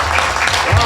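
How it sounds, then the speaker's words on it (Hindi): Audience applause at a Hindi comedy poetry show (hasya kavi sammelan), a steady wash of clapping from a crowd that holds at an even level for the short moment, with some low rumble beneath. "तालियां बजती रहनी चाहिए, बजती रहनी चाहिए"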